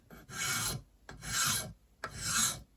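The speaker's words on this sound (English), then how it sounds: "draw filing" A file is drawn across a metal beater head in three long, even rasping strokes, each separated by a short pause, close and clear with no talk.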